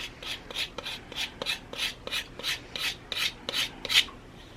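A tool rakes across the surface of air dry putty on a mannequin sculpture in about ten quick, evenly spaced rasping strokes, close and clear with no talk.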